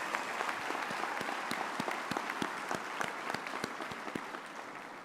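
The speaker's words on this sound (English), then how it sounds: "I would like you to give them a warm hand of applause" A graduation ceremony audience applauds its support staff in a large hall, a sustained, dense round of clapping from many hands that stays steady and fairly distant throughout, with no voices over it.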